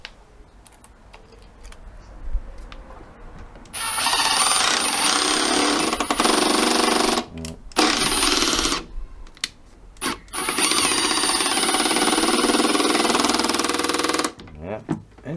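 A power driver drives screws into decking boards for a window box, with three long high-pitched whirring bursts separated by short pauses and clicks, loud and close.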